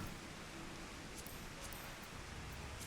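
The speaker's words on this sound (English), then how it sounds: "Oh no, it's raining." Steady rain hisses evenly in Final Fantasy XIV, a soft wash of falling drops with a few faint ticks, no voices.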